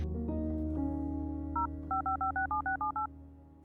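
A telephone being dialed by someone phoning for help with a broken system: a steady hum runs under a series of about nine short, evenly spaced touch-tone beeps, clear and fairly loud, ending in a sudden sharp click.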